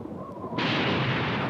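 Cartoon thunder breaks in suddenly as a loud, close rumbling crash after a short quiet lead-in.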